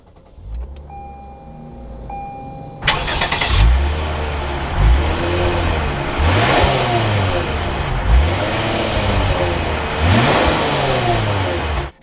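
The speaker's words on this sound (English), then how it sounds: "now once inside with my foot on the brake, it's time to start it up" A 2021 Lexus IS 350 F Sport V6 starts up loud and close after a faint electric whir, then settles into a steady idle with several brief revs rising and falling. No one speaks.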